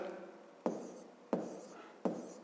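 Pen strokes scratch across paper as numbers are written for a fifth-grade math exercise, three sharp onsets each trailing into a short scratching stroke, close and fairly quiet.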